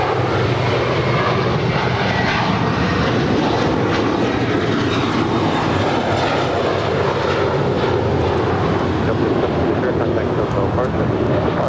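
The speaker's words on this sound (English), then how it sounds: "JetBlue Airways Flight 1700, it's an A321." A JetBlue Airbus A321 jet departs at Los Angeles International Airport, its loud, steady engine roar filling the whole stretch as a broad continuous rumble with no break.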